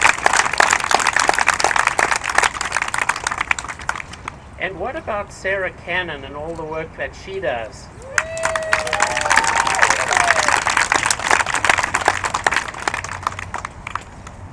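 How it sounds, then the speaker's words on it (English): Audience applause at a child and youth mental health day event, dense clapping at the start that drops out while someone speaks, then swells back and carries on loudly to the end. "I'd really ask you to give her a round of applause."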